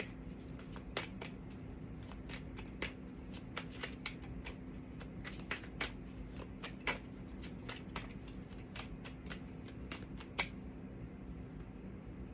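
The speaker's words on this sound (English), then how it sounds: "Am I shuffling upside down right now?" Tarot cards shuffled by hand in a steady run of crisp riffling snaps and soft slaps, close and fairly quiet, with a low steady hum beneath and no talk.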